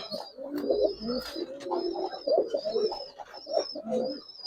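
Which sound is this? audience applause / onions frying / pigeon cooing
pigeon cooing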